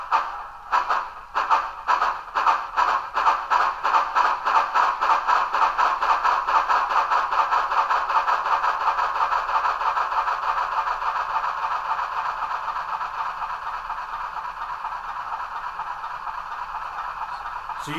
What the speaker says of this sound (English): So you can really hear more of the rod clanking, and you can hear that whirring chuff